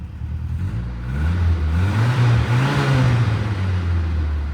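Turbocharged Mercury Capri engine, abandoned for 23 years, revving hard from a steady idle: a loud, close, mid-pitched roar that climbs, holds high for a couple of seconds, then eases back down; no voices.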